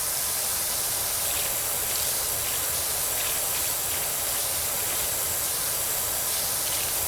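A pressure washer sprays continuously in PowerWash Simulator 2, giving a loud, steady hiss that runs the whole time with slight surges and no pauses.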